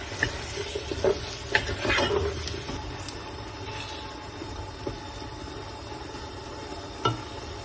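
Potatoes going into hot frying spice masala for aloo tahiri, with a dense close sizzle, a few clanks and scrapes of stirring, and a hiss that settles to a steady fry, no talk.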